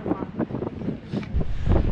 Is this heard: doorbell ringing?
no